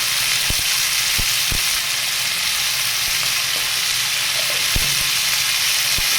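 Yardlong beans and potatoes fry in a pan with turmeric and salt, a loud, constant sizzle broken by a few sharp knocks from stirring.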